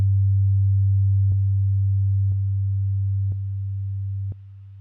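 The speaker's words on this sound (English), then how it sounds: "now what happens if we play these two tracks together and I slowly offset this track?" Two identical low sine-tone tracks played together while one is slowly offset in phase, a steady pure hum that steps down in loudness at regular one-second intervals, each step marked by a faint click.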